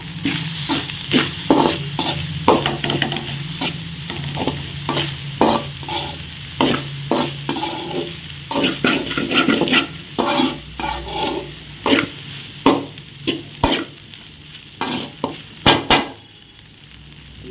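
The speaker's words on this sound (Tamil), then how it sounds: "நம்ம ஆற வச்சிருக்கிற சாதத்தை வந்து ஒயிட் ரைஸை போட்டு இதில் வந்து கிளறிக்கலாம்" Cooled white rice being stirred into a potato mixture in a pan, with a steady sizzle of frying underneath and repeated scraping strokes of a spoon against the pan, no talking.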